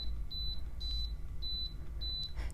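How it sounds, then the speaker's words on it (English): Four short, quiet electronic beeps at an even pace from the control panel of an Elechomes HTJ-2119 ultrasonic humidifier, each a brief high double chirp, over a steady low hum. "of course, the beeps that you were hearing as I change things."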